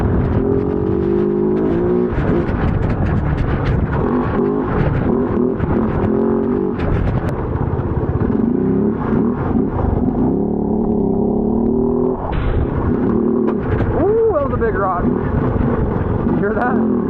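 A 450cc dirt bike engine revs hard on a muddy trail with corners, a steady throaty drone rising and falling in pitch, with someone talking over it and wind buffeting the microphone.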